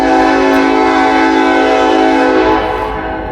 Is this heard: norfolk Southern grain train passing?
yes